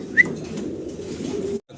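Pigeons coo softly and continuously at close range at a pigeon seller's, with a short higher chirp near the start before the sound cuts off.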